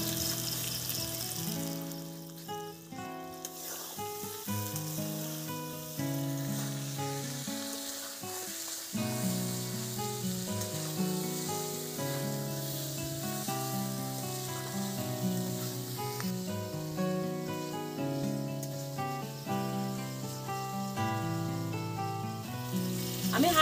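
Ground cumin, coriander, garlic, ginger and chilli pastes sizzle steadily in a pan for a crab curry, a continuous frying hiss with melodic tonal sounds layered over it throughout.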